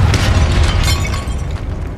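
A Confringo blasting spell goes off in Hogwarts Legacy, filling the moment with a loud, continuous booming roar and debris-like crackle that eases only slightly toward the end.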